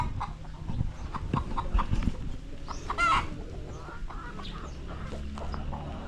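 Rhode Island hens cluck repeatedly around a backyard coop, with scattered clucks and a short louder squawk in the middle, set against steady low farmyard background noise.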